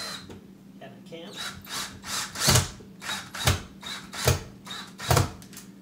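A power drill drives screws while a floating bedside shelf is mounted, giving short, close whirring bursts that pulse at a steady pace, and a person speaks briefly between them.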